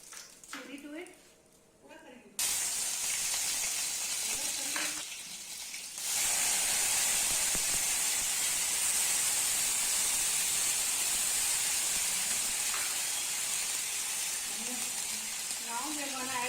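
Curry leaves and chili hit hot oil while tempering for appey (paddu) batter, giving a loud, steady sizzle and hiss that runs continuously, preceded by quieter clatter of the pan.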